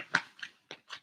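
Tarot cards being shuffled by hand: four short, close papery bursts of riffling and slapping, separated by brief pauses, with no talking.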